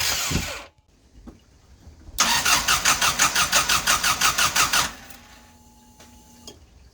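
A car engine cranks in a fast, even rhythm of pulses for about three seconds and then stops without firing, with quieter mechanical noise before and after.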